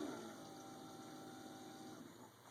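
Keurig B70 coffee maker at the end of its brew cycle, giving off a steady low pumping and gurgling hum with a faint trickle of liquid, fairly quiet and continuous throughout, with no voices.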